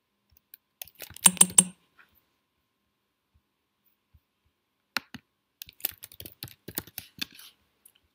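Code typed on a computer keyboard during a NestJS tutorial, a quick burst of close key clicks, a long silent pause, then a scattered run of taps, no talking.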